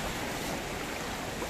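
Sea waves wash onto the shore at Alicante, a steady, broadband roar of surf and wind noise that stays constant and close throughout with no talking.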